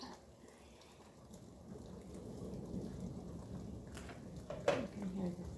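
Thunder rumbles low and far off through steady rain pattering on a surface, the rain building and ending with a sharper crack of thunder; no speech is heard.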